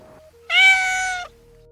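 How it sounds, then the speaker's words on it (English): A single cat meow from a Super Metroid ROM hack: a clear, tonal cry lasting under a second, loud and alone, with only faint game tones beneath. "Oh, cats."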